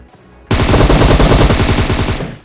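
Sustained automatic gunfire during a video game shootout, a loud rapid burst that starts abruptly and rattles on steadily for about two seconds before tapering off, with no talk over it.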